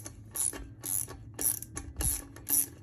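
Ratchet wrench breaking loose the bolts on a Honda Goldwing wheel, five quick bursts of clicking spaced about half a second apart, close and fairly quiet with no talking.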